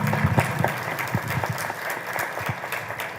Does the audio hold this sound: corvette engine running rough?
no